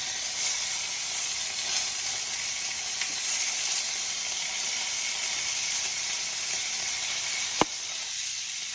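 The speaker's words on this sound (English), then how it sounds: "So we're going to sear our pork, get it in the pan as evenly as we can." Pork searing in a hot pan set to medium-high, a loud, steady broadband sizzle that holds evenly throughout, heard close up with a single sharp click near the end and no talking.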